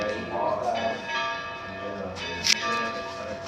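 Church bells ring with a sustained metallic tonal hum and a few struck accents, fairly faint, with voices talking over them.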